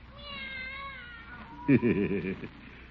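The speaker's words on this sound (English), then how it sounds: "Seems I can still hear that darn cat." A tomcat sitting on a fence gives a loud, drawn-out meow in a cartoon scene. It follows a thin, wavering tone.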